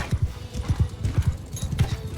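Horses gallop in Mount & Blade 2: Bannerlord, a video game. The hoofbeats form a fast, rhythmic clip-clop of paired thuds that continues steadily and up close.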